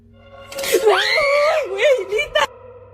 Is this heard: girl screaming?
yes